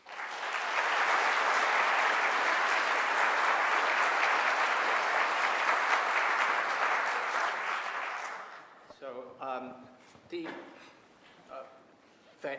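A conference audience breaks into sustained applause welcoming economists Paul Krugman and Olivier Blanchard. The clapping stays dense for about eight seconds and then fades into scattered claps, with voices starting up at the end.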